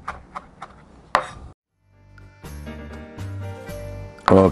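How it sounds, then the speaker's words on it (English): Swiss chard being chopped for a vegetarian stuffing, a few sharp knife strikes on a board early on with a louder chop near the end, separated by kitchen clatter and a low hum. "And we chop this."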